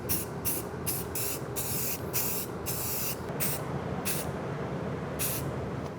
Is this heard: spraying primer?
yes